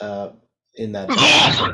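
A single sharp sneeze bursts out loud and close, right after a short stretch of speech and a brief silence.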